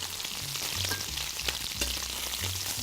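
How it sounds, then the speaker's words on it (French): Veal sweetbreads fry and crackle in a pan as they brown, a close, steady sizzle with small pops and a few soft scraping touches. "Notre riz de veau qui prend une belle coloration."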